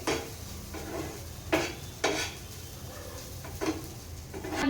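Dry bombil chutney is stirred in a pan, with about five distinct scraping clinks of the spoon against the metal over a soft sizzle, close and without talking.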